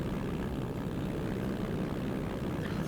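Steady droning propeller engine of a Cessna 152 in a flight simulator game, a continuous loud even buzz with no variation and no voices.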